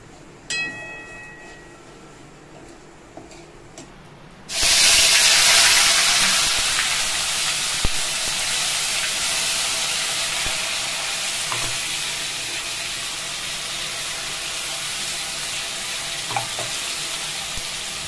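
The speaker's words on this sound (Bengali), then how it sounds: "এবারে আদা জিরেটাকে এর মধ্যে কষে নেব" Ginger and cumin paste hits a hot pan and sizzles loudly, the frying hiss jumping in suddenly after a quiet start and then holding steady with small stirring clinks.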